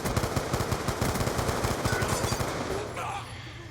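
Rapid machine gun fire from the Rage video game, in steady close bursts, fades near the end as a voice talks over it.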